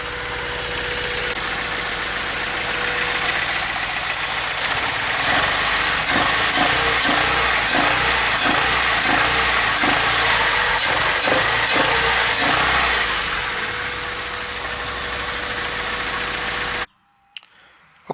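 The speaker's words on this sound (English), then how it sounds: "Idles okay. If I let go the gas pedal, kind of stay about 900 RPM." Mazda Miata NB2 VVT engine idling at its first startup after an automatic-to-manual five-speed swap, run without a radiator; a steady, hissy idle close by with a faint rhythmic pulse, ending abruptly.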